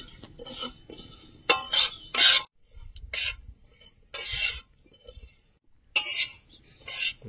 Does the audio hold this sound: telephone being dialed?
no